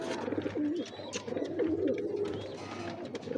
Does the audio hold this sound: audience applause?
no